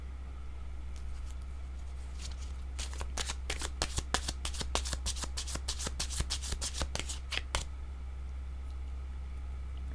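Oracle cards shuffled for a tarot reading, a burst of rapid crisp riffling clicks in the middle over a low steady hum, quiet before and after, with no talk.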